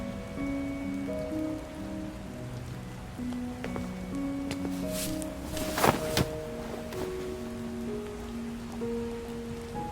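Steady rain falls through a stormy night in the Love and Deepspace video game, a soft continuous patter under faint musical tones, with one brief louder splash or rumble midway.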